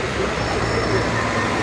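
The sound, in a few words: tram passing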